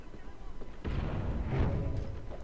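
A grenade in an Xbox One video game goes off with a deep, rumbling boom that swells and then lingers as a rolling roar over a noisy game backdrop.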